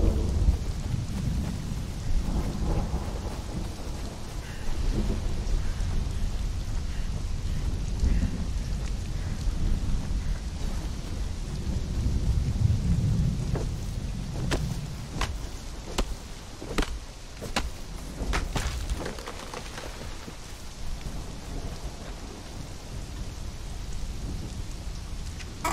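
Rainstorm in the survival game Conan Exiles, steady heavy rain with low rolling thunder rumbling underneath, followed by a run of sharp crisp clicks or chops in the later part, with no talk.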